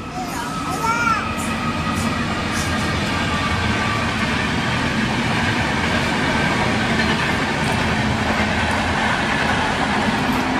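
A passing train near a mall at sunset gives a steady, loud rolling rumble with faint clatter that holds evenly through the whole stretch, while voices sit lightly in the background.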